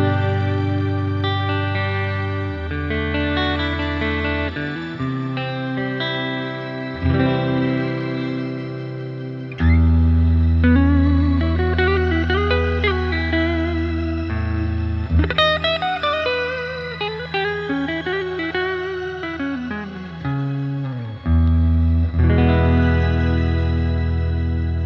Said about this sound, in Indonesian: Biasanya kalau reverb itu lebih enak ketika kita memakai pickup neck karena sound-nya lebih tebel ya.